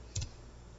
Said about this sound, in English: click on RMSD table